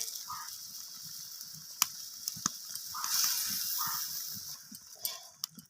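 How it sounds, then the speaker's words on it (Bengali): Lentils stirred into sizzling vegetables in a pan for a spinach dish, a steady frying hiss under scraping and clinking strokes of a spoon, close and fairly quiet. "ডালটাকে দিয়ে আমি মিশিয়ে নিলাম সবজির সাথে"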